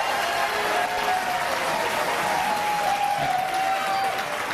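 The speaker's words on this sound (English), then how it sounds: "please hold your applause" Applause from the audience at a Connecticut gubernatorial debate, a sustained burst of clapping from a crowded hall, fairly even in loudness with a faint whistle threading through it.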